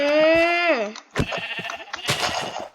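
Sheep bleating in the video game Minecraft: one long, clear, wavering bleat up front, followed by busier in-game clatter and brief hits.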